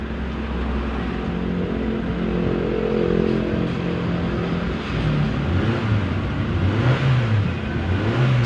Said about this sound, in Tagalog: Mas maganda yung pick up ng makina ngayon.